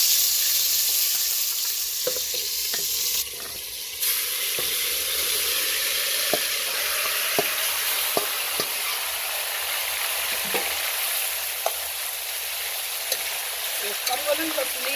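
Beef sizzling in a pot for Jamaican brown stew with onion, scallion, thyme and hot pepper, a steady loud hiss of frying with occasional clinks and stirring sounds.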